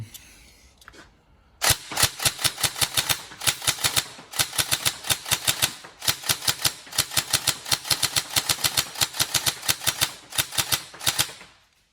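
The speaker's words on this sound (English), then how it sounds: "we're just going to get some rounds through it now, just to make sure it's all good" Upgraded Tokyo Marui 416 Delta NGRS airsoft electric gun firing a long string of rapid, sharp mechanical shots in bursts and singles, loud and close, after a brief quiet start with no talking.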